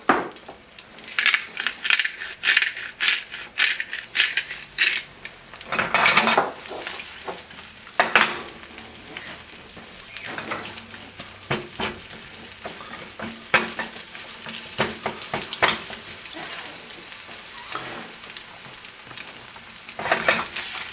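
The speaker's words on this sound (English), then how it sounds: "Oil is hot in the pan. Just going to go ahead and let these cook." Scrambled breakfast mixture fries in hot oil in a pan, a bright close sizzle punctuated by frequent clattering stirs and scrapes of the utensil, louder at first and then settling to a steadier crackle.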